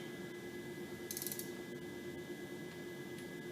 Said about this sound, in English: Hear that ratchet click?